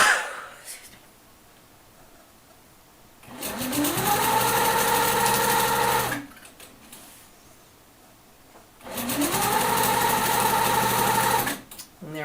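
A sewing machine stitches a quilt along a ruler in two steady running bursts of about three seconds each, separated by quiet pauses, close and loud with a whirring hum.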